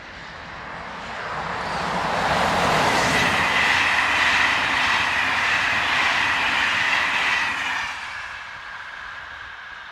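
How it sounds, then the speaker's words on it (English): An electric locomotive hauling an evening commuter train toward Blois, France rolls past steadily, rising to a loud rumble with a broad hiss and faint rhythmic clatter, then fading slightly as it moves away. "heading a southbound evening commuter train to Blois."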